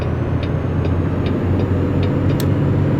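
In American Truck Simulator, a Kenworth T680 truck engine drones low and steady from inside the cab, with faint clicks above it and no talking.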